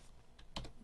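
Brief burst of a few soft keystrokes on a computer keyboard, quiet and close, with two or three taps followed by a slightly louder cluster.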